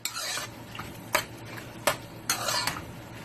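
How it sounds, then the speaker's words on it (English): A spoon scrapes and stirs turkey pieces in teriyaki sauce with added spice in a pan, giving several close, sharp scraping strokes and clinks over a soft background hum. "I'm just going to go ahead and I'm going to stir this up"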